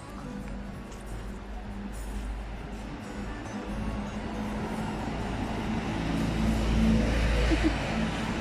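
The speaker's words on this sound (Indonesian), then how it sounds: "Oh, ada bis." A bus goes by on a street outside a home, a broad low engine rumble that swells louder toward the end over steady traffic noise, with no talk.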